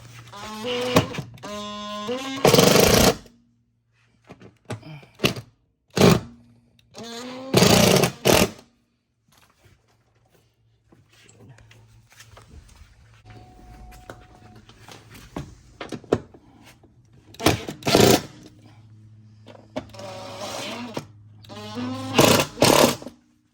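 Several short bursts of a power drill driving screws while fitting running boards to a Kia Telluride, each lasting a second or two, separated by quieter pauses with faint handling noise.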